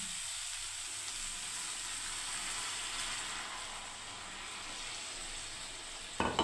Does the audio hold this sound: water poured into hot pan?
yes